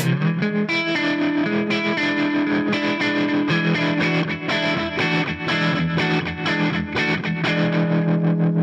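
Electric guitar played through a live pedalboard with a looper, heavily effected with distortion and chorus, producing loud sustained chords and ringing notes that fill the whole stretch without pause.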